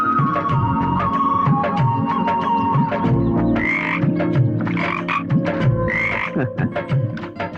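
Frogs croak loudly and steadily in a dense chorus with overlapping rhythmic calls, heard alone without voices, setting an outdoor night-like scene in a Tamil film.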